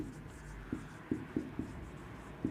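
Writing on a board or paper during a Class 12 geography lesson produces a handful of short, sharp strokes and taps at uneven intervals over a quiet room tone.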